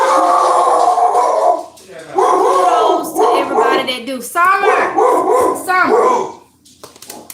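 Indoors, a dog whines and barks excitedly at someone walking their dog past, the yips and howl-like cries rising between stretches of someone talking.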